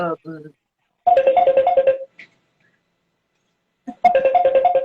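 A mobile phone ringtone plays a bright repeating melody in two bursts during a live stream, close and loud, with a person briefly talking before and between the rings.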